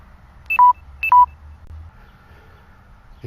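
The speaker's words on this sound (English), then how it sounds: "Just got beeped. We're running out of juice in the camera." Two short electronic warning beeps from a camera running low on battery, each a quick two-tone blip, sound close and clear about half a second apart in an otherwise quiet garage workspace.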